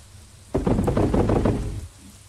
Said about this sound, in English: The thunder is terrifying.